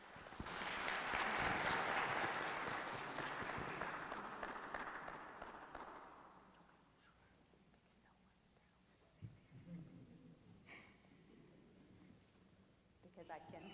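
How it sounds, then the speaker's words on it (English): A conference audience applauds after an oral presentation, a broad swell of clapping that builds, then fades out over several seconds, followed by quiet room noise, shuffling and faint talk. "Let's give a round of applause to Megdes."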